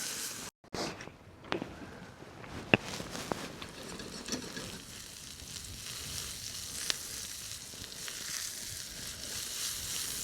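Sausages, already overdone, fry alongside small red onions in a pan, giving a continuous close crackle and sizzle with occasional sharp pops and a few scraping stirs.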